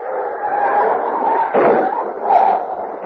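A dog struck by a car on a road whimpers and yelps in drawn-out, strained cries, loud and close, with a brief thump partway through.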